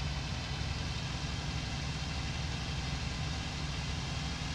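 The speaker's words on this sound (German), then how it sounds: "Ja, der Motor verabschiedet sich." A failing aircraft engine in the IL-2 Cliffs of Dover World War II flight simulator gives a loud, constant droning roar with a dense noisy rush, steady and unbroken throughout, with no talk.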